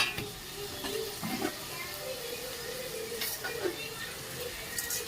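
Tomatoes with ginger-garlic paste and salt sautéing in a pan for prawn thokku, a soft steady sizzle with a few scraping stirs of a spatula against the pan, faint and close.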